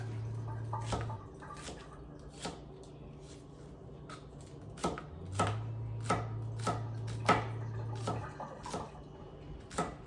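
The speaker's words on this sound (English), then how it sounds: "Cut the ends. Just chop it up." Knife chopping shallot on a cutting board, a string of sharp, close knocks in irregular bursts over a steady low hum.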